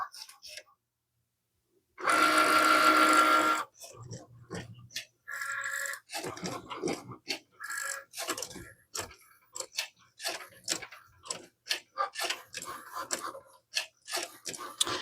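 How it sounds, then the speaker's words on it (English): A Cricut cutting machine cuts out a design for a textured sand painting: a loud whirring burst, then a steady run of quieter intermittent ticks and short motor whirs, close by. "we're going to let Cricut do its thing and cut this out for us"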